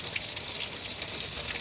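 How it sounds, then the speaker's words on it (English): Water sprays in a steady, hissing rush as a boat is rinsed down, with a continuous loud gush at close range and no pauses. "then I just go in and thoroughly rinse"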